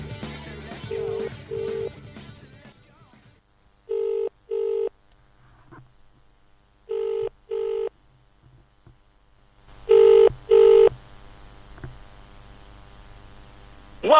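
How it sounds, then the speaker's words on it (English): Telephone line rings after dialing, repeated paired ring tones in regular bursts with quiet gaps between them, following a run of short dial tones at the start. "It's ringing."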